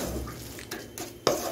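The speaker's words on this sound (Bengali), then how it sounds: "নিয়ে এসে কিছুক্ষণ আমি এভাবে নেড়ে চেড়ে একটু রান্না করে নিচ্ছি।" Spatula scraping and stirring a coconut filling for puli pitha in a pan, with soft clinks and a sharper knock near the end, close and fairly quiet.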